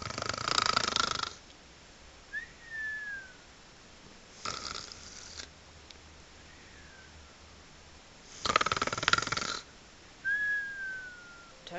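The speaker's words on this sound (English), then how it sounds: "Then Percy fell into a deep sleep and started to snore" Loud, exaggerated cartoon snoring comes in three rasping inhales, each followed by a thin whistling exhale, with a slow steady rhythm and nothing else heard.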